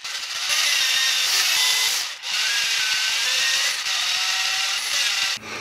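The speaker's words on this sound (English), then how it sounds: "I decided to just go ahead and drill with the 5/16 bit" A power drill with a 5/16 bit grinds steadily through oiled metal at close range, a harsh high whine with a short pause midway and a brief dip near the end.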